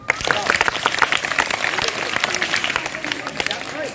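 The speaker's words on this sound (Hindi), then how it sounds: "एक बार इनके लिए तालियां हो जाएं।" An audience at a school magic show applauds, a busy stretch of clapping with distinct close claps over a crowd murmur, and voices mix in throughout.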